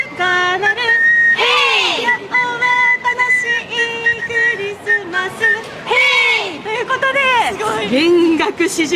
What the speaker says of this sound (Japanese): ちくわ笛の音色が高らかに響く